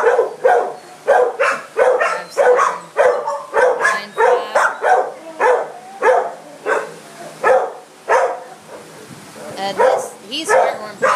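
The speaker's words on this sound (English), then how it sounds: "This dog, and number 9," Dogs bark in short rapid bursts at an animal shelter's dog runs, loud and close, with a person talking over the barking throughout.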